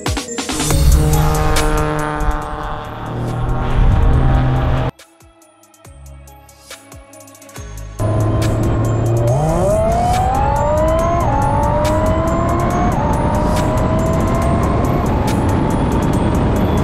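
Audi R8 and Nissan GTR on Michelin Sport Cup 2 tyres lapping the Sebring circuit: a loud engine roars through rising gear changes, drops out briefly, then returns with repeated upshifts and sustained high revs, no voices.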